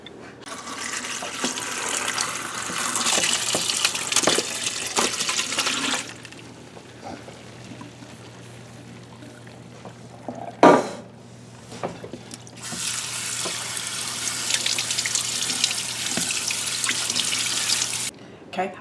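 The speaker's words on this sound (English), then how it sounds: "I just got done rinsing the liquid off of the peppers that was in the can" Tap water runs into a sink while canned jalapeño peppers are rinsed, a steady broadband rush in two long stretches with a quieter pause and a brief clunk between them.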